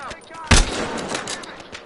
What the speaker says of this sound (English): I'm getting sniped, someone's sniping.